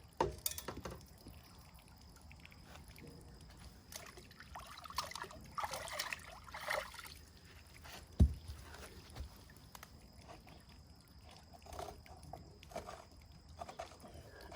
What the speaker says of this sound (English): Once again I'll wash the quartz.